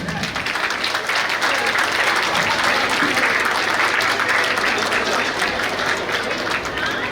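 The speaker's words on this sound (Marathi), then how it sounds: "त्या जेव्हा स्टेजवर येतील तेव्हा तुमचा जो टाळ्यांचा गडगडाट होईल" Steady, dense applause from an audience at a Ganapati festival stage event in Estonia, loud and sustained throughout without pause.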